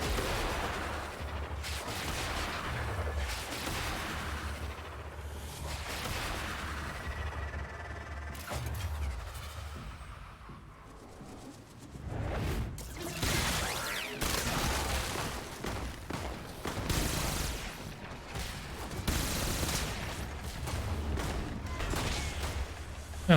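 Dense, continuous gunfire from the video game Warframe, with rapid bursts, heavy booming shots and overlapping volleys throughout a long stretch of combat.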